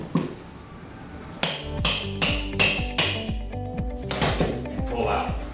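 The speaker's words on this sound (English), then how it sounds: "use a flat bar similar to this, using the flat end with a hammer" Repeated hammer blows strike a steel flat bar wedged behind baseboard during sheetrock removal, about eight sharp, evenly spaced metallic knocks with ringing decay, close and loud after a quiet start.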